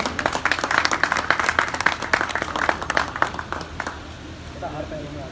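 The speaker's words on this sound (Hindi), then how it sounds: "भाई जोरदार ताली बजा दीजिए" Crowd clapping at a turban ceremony honouring ustads, sharp dense hand claps that fade after about four seconds into quieter background murmur, with voices talking underneath.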